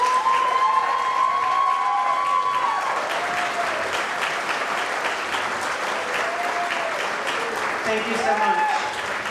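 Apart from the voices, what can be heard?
audience applause for award nominees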